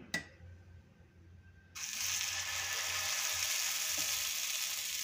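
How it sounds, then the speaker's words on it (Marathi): A light clink, then a steady loud sizzle bursts up as Davanagere sponge dosa batter hits an oiled hot griddle and keeps frying evenly. "तव्यावरती मी आता बॅटर घालणार आहे।"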